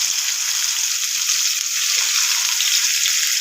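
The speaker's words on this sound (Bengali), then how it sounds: "ভেজে নিচ্ছি।" Potatoes fry in hot oil and ghee in a wok, giving a loud, steady hiss and bubbling sizzle throughout, close up with no speech.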